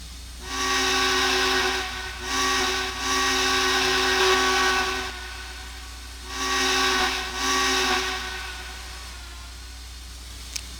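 A steam locomotive whistle of a Cotton Belt L-1 in the game Trainz blows several long chord-like blasts in a short-long pattern, loud and close, separated by a background steam hiss, with a brief click near the end.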